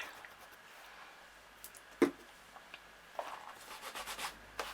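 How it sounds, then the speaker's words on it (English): An ink stamp scrubbed on a Stampin' Scrub pad after StazOn ink, quiet soft rubbing strokes with one sharp tap near the middle and a flurry of brisk scrubbing toward the end, close and without talk. "Just give it a quick scrub on the Stampin' Scrub."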